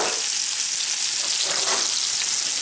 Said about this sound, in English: kefta is starting to sizzle